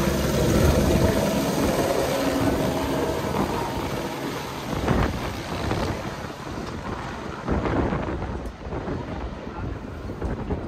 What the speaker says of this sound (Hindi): देखिए ये हेलीकॉप्टर यहाँ से उतर आई है